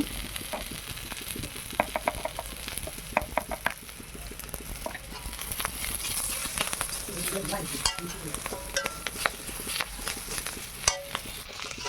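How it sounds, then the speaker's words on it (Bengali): Green chillies and turmeric powder fry in oil in a pan, giving a continuous sizzle with scattered crackles and pops and occasional stirring scrapes of a utensil, with no talking. "দেখো আমি খুব সুন্দর করে কাঁচা লঙ্কা সহ হলুদটাকে খুব ভালো করে ভেজে নিয়েছি"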